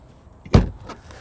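An Airstream touring coach van's door opens with one quick, close mechanical clunk and a short rush of sound, surrounded by quiet.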